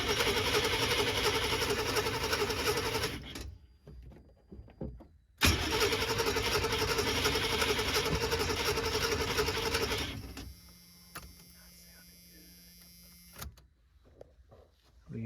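The engine of a Chevrolet G20 conversion van with a fuel system problem cranks and runs loudly up close, cuts out for a moment, roars back, then drops to a faint whir with scattered clicks.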